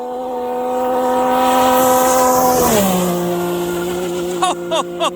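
A car approaches and races past at high speed on a road, its engine tone rising loud and close and then dropping sharply in pitch as it passes, followed by a few brief knocks.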